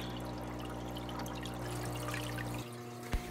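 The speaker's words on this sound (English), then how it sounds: "Just dip it in your tank a few times and let it start sucking the water down itself, and then it'll get its own suction going" Aquarium water drains from a big home tank through a siphon tube, a steady trickling pour that runs on evenly, then thins out near the end with a brief knock.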